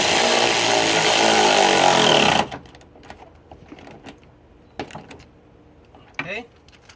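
A power tool drives a bolt on a custom subwoofer box inside a Jeep Wrangler, a loud close buzzing whir for about two seconds that stops abruptly, followed by quiet clicks, handling noises and a short voice.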